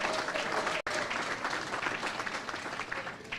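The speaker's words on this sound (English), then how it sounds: "Give that a round of applause." Audience at the launch of the NDC Florida Chapter claps in sustained, dense applause at close range, steady throughout apart from one split-second cut, with no talk over it.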